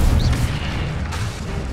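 An Incendio fire spell cast in Hogwarts Legacy, a dense blast with a whooshing burst near the start over a continuous loud rumbling game soundscape.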